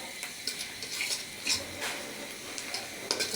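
Onions stirred and frying in a pan until brown for a chicken and potato curry, with a steady soft sizzle and repeated light scrapes and clinks of a spoon against the pan, close by and with no talk.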